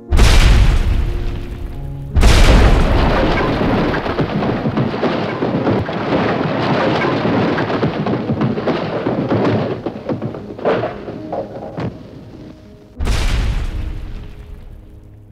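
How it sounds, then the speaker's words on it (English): Gelignite charges strapped to the legs of the Halfpenny Bridge at Saltburn detonating in 1974: loud booming blasts, the first two close together, followed by long rolling rumble and a final heavy boom near the end. "6 pounds of gelignite was strapped to each of its 7 legs and detonated"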